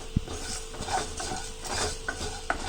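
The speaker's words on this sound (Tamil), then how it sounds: "எல்லாத்தையும் நல்லா மிக்ஸ் பண்ணி விட்டுருங்க." Cinnamon, cloves, cardamom and bay leaf are stirred in a pan over a low flame for Chettinad chicken gravy, with light metal scraping, clinks and a sharp tap over a faint sizzle.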